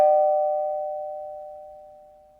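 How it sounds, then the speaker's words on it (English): A single doorbell chime rings out clearly and decays slowly over a couple of seconds in a quiet house. "I heard a doorbell."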